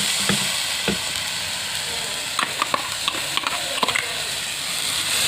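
Tomato paste is stirred into broiler chicken frying in a pan, village style, producing a steady close sizzle with a few sharp clacks and scrapes of the spoon.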